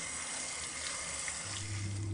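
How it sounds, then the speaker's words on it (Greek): Blanched figs are rinsed under a running kitchen tap, a steady, soft splashing stream of water with a faint low rumble near the end, heard close and alone. "Τα ξεπλένω καλά κάτω από τρεχούμενο νερό για να σταματήσει ο βρασμός"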